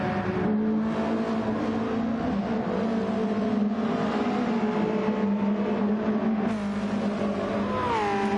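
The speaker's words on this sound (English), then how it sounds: "Snorksel pushing another lap further on these very worn set of medium tyres now on that Porsche." Porsche race car running on very worn medium Michelin Pilot Sport tyres at Watkins Glen, its engine a steady, loud droning howl that holds constant and shifts pitch near the end as it changes gear.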